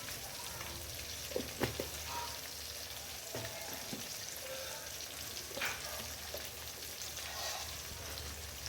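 Coriander powder, masala powder and turmeric fry in a pan for sambar, giving a steady soft sizzle throughout with a few faint scrapes and clinks, no voices.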